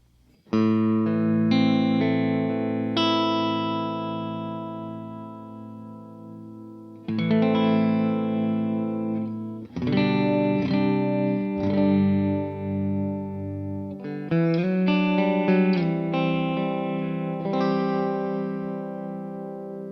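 Sustained electric guitar chords ring out with a slow, wavering tremolo from a Walrus Audio Monumental Harmonic Stereo Tremolo pedal, shifting back and forth across the stereo field, no voices present.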